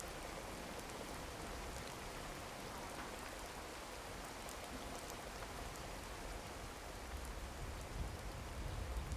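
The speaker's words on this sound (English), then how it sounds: "The thing is, it's heavy rain." Heavy rain in the video game Card Survival: Tropical Island makes a steady, dense, hissing downpour, quiet and even throughout with no pauses and no voices.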